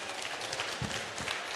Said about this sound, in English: give a big round of applause to these 3 amazing cosplayers